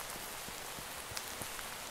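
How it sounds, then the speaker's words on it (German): Steady rain patters on the ground in Minecraft, a soft continuous hiss with occasional faint drops, low in level and heard alone without talk. "Außerdem regnet es ja auch."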